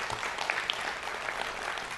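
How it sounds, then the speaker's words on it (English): Steady audience applause filling a church service, dense and even for the whole stretch with a few sharper claps standing out. "Yes, you can applaud again."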